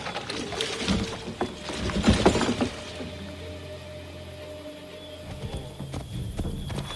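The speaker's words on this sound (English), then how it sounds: "They've only left a single horse. We'll have to ride together." A horse gallops in the video game Assassin's Creed III, its hooves a quick, repeated clip-clop near at hand, strongest early on, then steadier under game ambience.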